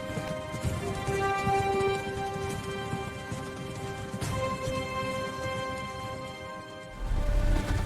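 Horse hooves clatter in a steady rapid gallop, a dense rhythmic clip-clop under sustained musical tones that swell louder toward the end.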